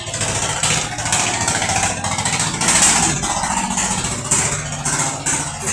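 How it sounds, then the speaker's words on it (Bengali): Two large diesel engines running side by side in the engine room of the passenger ship MV Sharmat-2, a steady loud rumbling drone with a hissing, clattering mechanical texture and no talk. "দেখেন কত বড় ইঞ্জিন দুই পাশে দুইটা ইঞ্জিন"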